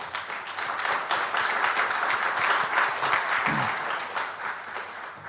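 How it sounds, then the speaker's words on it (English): Steady audience applause in a conference room at the Digital Alps Conference after a talk on infrastructure, many hands clapping continuously at moderate volume, heard alone without speech. "I hope that you could hear the applause that was in the room"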